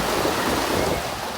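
Steady rain falls along an outdoor royal procession route lined with tents, a continuous broadband hiss with no clear voices, close and even throughout.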